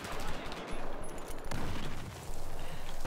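Rapid automatic gunfire and bursts of shots from the Battlefield 4 video game dominate the clip. The loud, dense volleys run almost without a break, with brief lulls, and there is no clear speech.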